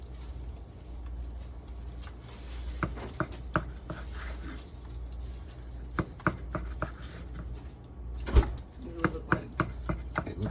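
Knife slicing through a slow cooker pastrami that cooked 10 to 12 hours, giving a series of soft, irregular cutting taps and thuds over low background hum, with no talking.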